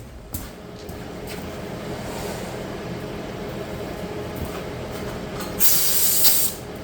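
A paint spray gun sprays red paint on a McCormick W6 tractor, hissing steadily up close throughout with short bursts and a louder spray near the end.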